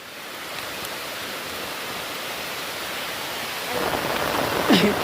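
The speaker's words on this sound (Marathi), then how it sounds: "आता अचानक पाऊस पण आला आहे" Steady, dense rain falls outdoors in a forest, a loud even hiss that swells slightly toward the end, with no talking.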